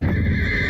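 A horse from the 1995 battle film Braveheart lets out a single short, loud neigh over a rumbling background, close and without talk.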